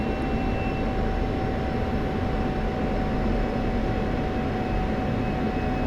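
F-16C Viper jet in the flight simulator DCS makes a constant engine roar and airflow rush with a faint steady whine on top, unchanging throughout and with no voices.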